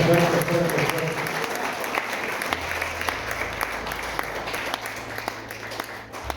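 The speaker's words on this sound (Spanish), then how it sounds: "Un aplauso fuerte." Loud congregational applause fills a church service after a call to honor Christ the King, a dense sustained patter of many hands with a low steady hum beneath.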